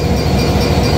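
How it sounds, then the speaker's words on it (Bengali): The intercity Benapole Express, bound for Dhaka, pulls out of Jessore Junction railway station with a loud, close, continuous rumble of wheels and carriages during one brief moment. "নির্ধারিত সময় যাত্রাবিরতি শেষে ট্রেনটি ছেড়ে যাচ্ছে যশোর জংশন রেলওয়ে স্টেশন"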